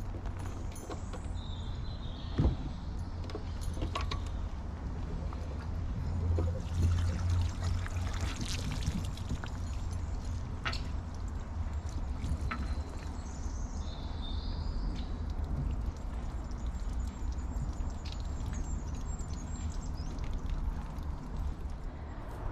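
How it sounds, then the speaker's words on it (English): Grey waste water from a motorhome drains out at a service point, a steady, continuous gush and splash that runs unbroken close by, with no voices. "So I'll do this and we'll get the grey waste dumped out"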